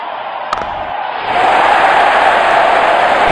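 A roaring IPL crowd at a cricket stadium in an RCB versus CSK match, a loud steady wall of cheering that swells and holds after a brief thud.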